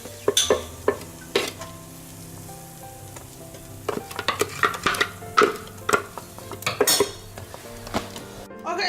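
Metal spoon scraping and clinking against a pot while egusi with pepper, onions and garlic sizzles softly underneath, with irregular stirring strokes and occasional sharper clanks.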